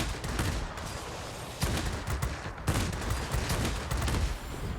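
Rapid bursts of 20 mm cannon fire from a warplane in World of Warplanes, sustained loud volleys with brief pauses and a dense, continuous rattle throughout.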